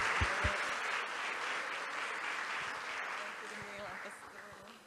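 Church congregation applauding during an evening worship service, a steady broad clapping wash held at moderate level throughout, with a few low thumps and tonal bits underneath.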